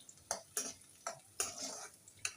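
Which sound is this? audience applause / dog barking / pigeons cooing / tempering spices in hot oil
tempering spices in hot oil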